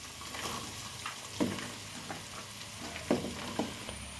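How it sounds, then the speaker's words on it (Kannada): Chopped bitter gourd frying in tempering oil makes a soft, steady sizzle with a few stirring scrapes, quiet and without talk. "ಈಗ ನಾವು ಕಟ್ ಮಾಡಿ ಇಟ್ಕೊಂಡಂಥ ಹಾಗಲಕಾಯಿನ ಈ ಒಗ್ಗರಣೆಗೆ ಹಾಕ್ತೇನೆ"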